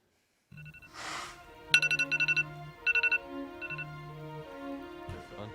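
A phone ringtone plays in a room, a melodic electronic tune with bursts of quick repeated beeping notes over sustained tones, moderately loud and alone without talk.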